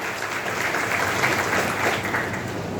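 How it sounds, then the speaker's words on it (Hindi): Steady, dense applause from an award-ceremony audience as a certificate and a cash cheque are presented, a continuous even wash of clapping throughout with no talk. "जोरदार तालियां"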